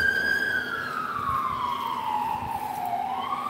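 A passing police car siren in Iowa wails steadily with a slowly falling pitch that rises again near the end, loud and continuous over the hum of passing traffic.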